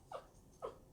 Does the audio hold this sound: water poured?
no